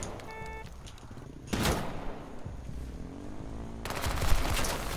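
AK rifle fire in the battle royale video game H1Z1 comes as two loud bursts of rapid automatic shots separated by a quieter stretch of game sound.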